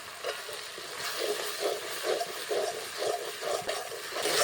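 Tomato paste is stirred into a frying spice masala in a pan, with a steady sizzle and rhythmic stirring scrapes roughly every half second, moderately close and without voices.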